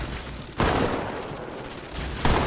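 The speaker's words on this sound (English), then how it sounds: "That's some good shooting, Chief." Gunfire in the video game Halo 2, a broad burst of shots that swells and stays dense across the moment, with a second loud surge near the end, no voices over it.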